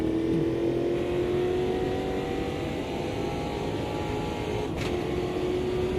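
A race car in Automobilista 2 pulls out of the pits on cold tyres, its engine droning steadily and rising slowly in pitch, loud and close throughout.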